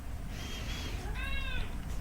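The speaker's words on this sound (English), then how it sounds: "That's what the cat says." A cat meowing twice, a soft first meow and then a clearer, longer drawn-out one, fairly faint over a low rumbling background hum.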